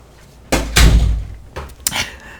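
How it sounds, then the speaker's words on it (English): An indoor room door swung shut, giving a loud close thud followed by a second softer knock and latch click, near and without talking. "Sorry, I had to close my door."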